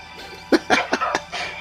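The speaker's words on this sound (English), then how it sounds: "there's a mosquito that's coughing?" A mosquito coughs on the soundtrack of the 1994 film Mosquito, giving a short, loud, close series of three or four sharp hacking coughs in quick succession.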